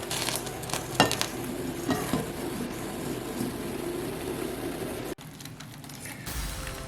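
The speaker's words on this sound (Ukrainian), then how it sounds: "І ось це сало, що ми закинули, варимо десь приблизно півгодинки." Pieces of pork fat (salo) boiling in a pot, a steady close bubbling and hiss with a few soft clinks, briefly cut short near the end.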